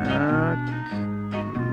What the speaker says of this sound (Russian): В речке коровы забились от мух.